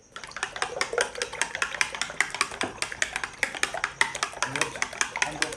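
Eggs whisked with black pepper in a bowl make a rapid, even run of close metallic ticks and taps that continue without pause.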